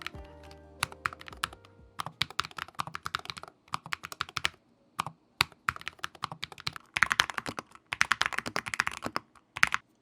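Fingers type on a Keychron K3 HE low-profile Hall effect keyboard, a close, crisp patter of rapid key clicks in bursts separated by short pauses.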